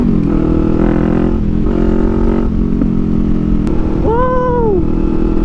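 A Kawasaki Ninja 400 motorcycle engine drones steadily while riding, loud and close with constant wind rumble, a brief pitch swell near the end.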